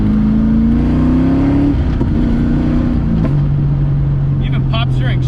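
LS-swapped Lexus IS300 heard from inside as its V8 engine drones and then drops in pitch as it decelerates, with faint crackling exhaust pops near the end, loud and continuous throughout.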